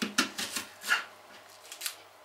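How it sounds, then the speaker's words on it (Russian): A few quick knife chops through an onion on a cutting board, irregular and close, with light rustling between strikes. "Лук надо нарезать мелко."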